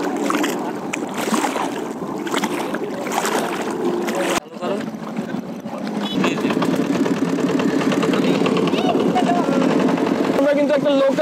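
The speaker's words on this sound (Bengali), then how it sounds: "গাইজ, আমরা ট্রলারে করে এখন নদীর ওই পাড়টাতে যাবো।" A local river trawler's engine drones steadily and close on a crossing in Faridpur, a continuous mechanical hum with voices talking over it.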